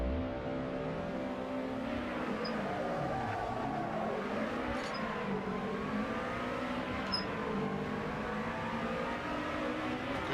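Lotus Lightweight Trofeo race car engine revving hard at a race start in Assetto Corsa, a steady loud engine drone rising and shifting in pitch through gear changes, with other cars' engines layered around it and no talk.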